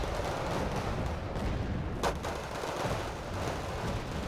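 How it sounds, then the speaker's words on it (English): Mortar fire in the strategy game Wargame Red Dragon: a dense, steady rumble of distant battlefield gunfire and detonations with one sharper crack midway, continuous and alone with no voices. "Now we've got the mortar support coming in"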